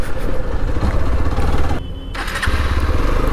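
A Hero Xpulse 200 motorcycle engine runs close and loud, a throbbing, steady exhaust rumble with a brief dip partway through before it picks back up.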